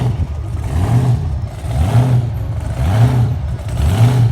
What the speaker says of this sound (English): Big block Chevy with a supercharger.